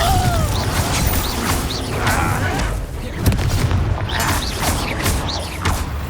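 Confringo blasting spells exploding repeatedly in the Hogwarts Legacy video game, a series of loud booms and crashes amid combat effects, with a voice shouting spell names between the blasts.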